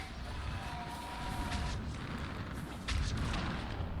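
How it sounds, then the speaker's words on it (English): Artillery fire support in the video game Mass Effect 3, a continuous rumbling barrage with a heavier boom near the end, a dull distant roar under the game's ambience. "We've got fire support."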